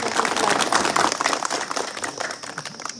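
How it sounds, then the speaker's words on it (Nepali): Audience clapping at a relief distribution event for earthquake victims, a burst of applause that thins out toward the end, moderately loud with crowd murmur. "त्यसको लागि हामीले ताली पनि बजाउनु पर्छ।"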